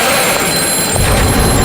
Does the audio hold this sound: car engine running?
no